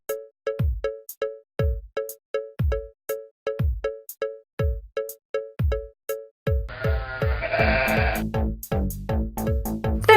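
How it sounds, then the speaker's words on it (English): A ram bleats again and again in a steady rhythm, each short call close and clear, with a louder burst of overlapping noise near the end. "The ram, or a male sheep."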